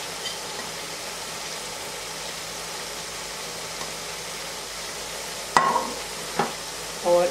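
Onions for keema do pyaza, half a kilo, stirred into browned minced meat in a pan, giving a steady low sizzle with a few louder scraping stirs near the end.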